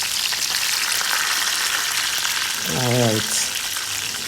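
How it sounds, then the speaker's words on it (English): Jamaican jack fish browning in hot oil in a pan, a loud steady crackling sizzle throughout, with someone speaking briefly over it. "we are going to brown the fish then"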